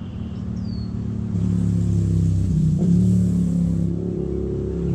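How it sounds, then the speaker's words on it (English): Steady engine rumble of traffic on a bridge directly overhead, heard from below at the water's edge, swelling as a car accelerates across, with a continuous low drone of traffic. "just tons of traffic right on top of us"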